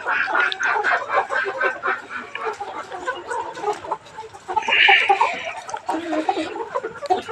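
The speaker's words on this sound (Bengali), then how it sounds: "এই যে মুরগিগুলো নিপলে ঠুকে পানি খাচ্ছে।" Farm chickens in cages cluck and chatter nearby while drinking from nipple drinkers, a busy overlapping flock sound with one louder squawk midway.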